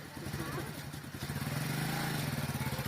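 A motorbike pulls away as its clutch is released on a village ride in Pakistan, the mid-pitched engine drone rising and steadying under a voice.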